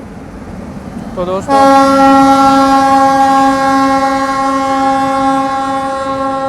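A train horn blasts loud and close, holding one steady, strongly harmonic tone for about five seconds after a brief rising lead-in, as the Ratlam Intercity Express overtakes at Laxmibai Nagar station.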